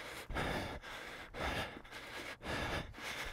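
Heavy, rhythmic breathing during a no-equipment Tabata HIIT workout, with loud, close gasping inhales and exhales repeating about every half second.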